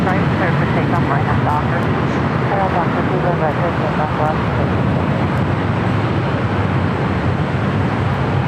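Airbus A320 airliner at LAX airport, a loud, steady broadband engine roar that holds for the whole stretch, with no breaks and some traffic-like rumble underneath.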